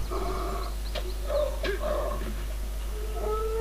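A dog barks and whimpers in the video game Fable, several short yelps and whines over a steady game background, fairly close and moderately loud, with no speech.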